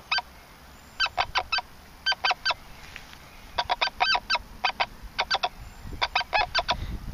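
A Rutus Jupiter metal detector sounding over a nickel during a nail test, giving repeated clusters of short, sharp, high-pitched beeps in quick bursts, clear and close against light background hiss.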